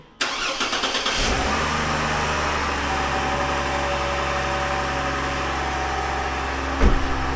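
A 2003 GMC Envoy engine cranks briefly and catches, then settles into a steady, loud idle close by with a low rumble, alone without talk, with a small bump near the end.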